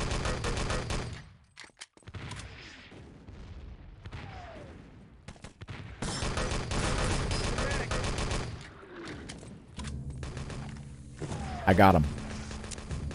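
Friendly artillery strike in the online shooter game Wolfenstein: Enemy Territory, heavy booms and rumbling blasts mixed with bursts of gunfire and mechanical creaks, with a player briefly speaking over the battle noise.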